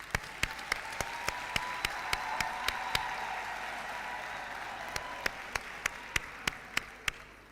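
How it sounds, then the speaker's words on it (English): A graduation ceremony audience at Unisa applauds in a soft, distant wash of clapping, with a string of sharper single claps standing out nearby throughout. "A round of applause, please."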